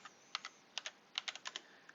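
A computer keyboard is tapped briskly as a command is entered at a Windows command prompt, a dozen crisp close keystrokes in uneven bursts over a quiet background.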